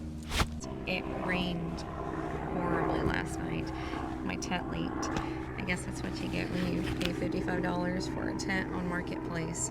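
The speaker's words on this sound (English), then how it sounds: "There's an Air Force base nearby, and so you can hear a lot of air traffic right" A steady low engine drone of aircraft from a nearby Air Force base passing overhead hums in the background at a campsite while a person talks over it.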